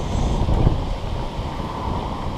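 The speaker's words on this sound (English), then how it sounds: "Wind's picking up again" Wind gusts through Chapeltown woods in Sheffield, a steady low rushing roar buffeting the microphone, loud and unbroken with no voices.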